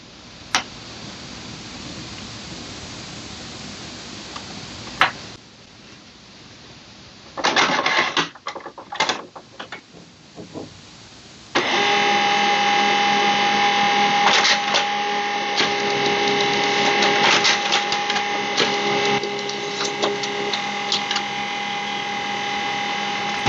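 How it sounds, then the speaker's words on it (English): An HP LaserJet M140w laser printer runs off a configuration page: a quiet hum and brief clicks give way to a steady, loud mechanical whir and feed noise that continues to the end. "we are going to print the Wi-Fi Direct configuration page from the printer"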